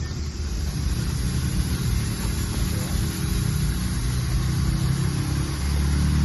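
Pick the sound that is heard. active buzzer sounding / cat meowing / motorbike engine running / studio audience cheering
motorbike engine running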